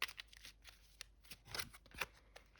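Tarot cards shuffled and drawn, heard up close and fairly quiet: scattered crisp card snaps and flicks with brief riffles and soft sliding between them.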